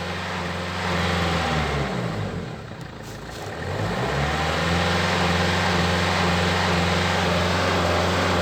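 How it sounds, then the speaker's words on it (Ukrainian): An Opel Vivaro 1.9 diesel van engine that struggles to gain revs runs close by, its steady drone dipping as revs drop, then climbing back up and holding at a higher pitch. "Почуйте, що з мотором тут."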